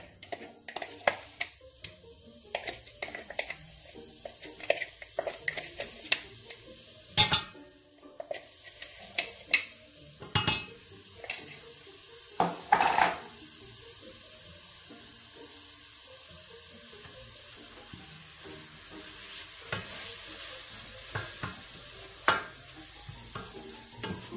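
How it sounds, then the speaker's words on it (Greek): Fresh onion, dry onion and fennel sauté in a pan with a faint, soft sizzle. Scattered utensil clicks and scrapes of stirring break the quiet frying. "Αφήνουμε λίγο να τσιγαριστεί."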